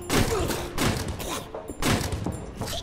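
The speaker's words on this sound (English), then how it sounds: "Why are you shooting gremlins?" Gunfire in a video game as a player shoots gremlins, several short heavy bursts of shots spaced about a second apart, up close and fairly loud.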